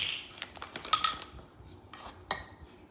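Metal pots, pans, lids and utensils clink and clatter faintly in a home kitchen, a series of scattered light knocks and rattles with no talking.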